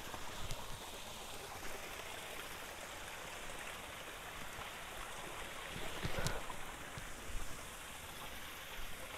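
Steady broadband rush of water flowing at the Maharajakadai Mathi waterfall stream near Krishnagiri, a continuous close wash of falling and running water with no voices.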